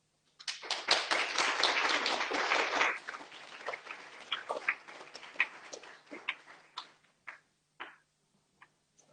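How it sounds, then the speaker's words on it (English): An audience at a talk in Berlin bursts into applause, a dense clapping that holds for a couple of seconds, then thins out into scattered individual claps that trail off. "please give her a big round of applause."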